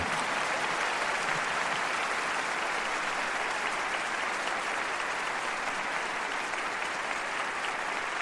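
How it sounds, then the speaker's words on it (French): A large church congregation in Bogotá applauds continuously, a dense, even wash of clapping without a break. "nous allons saluer notre sœur Maria-Louisa avec des applaudissements immenses"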